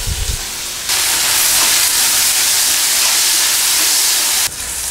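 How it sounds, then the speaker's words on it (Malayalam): Chopped onion and green chillies with salt and garlic sautéing in a pan, a loud, steady broadband hiss of frying that starts abruptly and cuts off near the end, close and unbroken, with no voices. "അരിഞ്ഞു വെച്ചിരിക്കുന്ന പച്ചമുളക്, സവോള, ആവശ്യത്തിന് ഉപ്പും ചേർത്ത് നന്നായി വഴറ്റിയെടുക്കുക"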